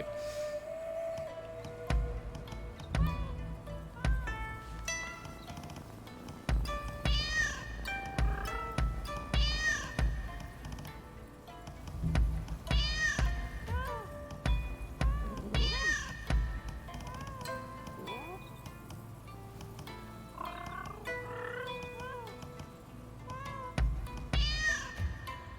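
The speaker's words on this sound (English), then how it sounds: "I like how Suguma's playing with the cats" Cats in the video game Rise of the Ronin meow repeatedly in short rising and falling calls, clear and close, over soft game ambience and low thuds, with no talking.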